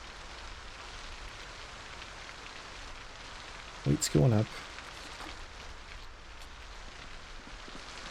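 Steady rain in the video game Project Zomboid, a continuous even hiss of rainfall on surfaces running throughout, with a brief burst of a voice speaking over it midway.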